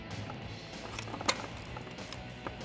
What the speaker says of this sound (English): Using a 10mm socket, we're going to disconnect the rest of this plate to remove it